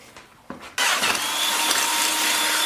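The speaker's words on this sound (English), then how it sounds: "I can drill a hole right through there" A power drill bores a hole through the frame of a 1972 Honda CB450 motorcycle, starting with a brief rattle, then a steady, close, whining grind that runs on unbroken.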